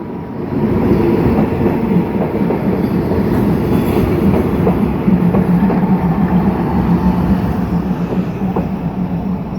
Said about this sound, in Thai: อุ้ยรถไฟมาพอดีเลย